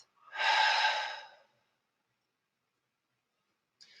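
One slow, deep breath drawn in during a calm spiritual service, soft and close, lasting about a second, followed by near silence.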